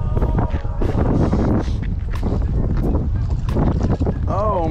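Steady wind gusting across the microphone while bass fishing from a boat on a cold spring lake in Colorado, a loud continuous rush with a voice talking over it.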